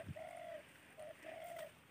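Spotted dove cooing at a farm field edge, a few drawn-out mellow coos in a short phrase, fairly faint and slightly distant with no talk.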